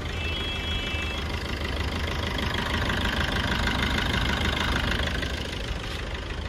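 A used car's engine idles steadily up close, a continuous low rumble with a faint knocking texture that holds an even level throughout, with no voices over it.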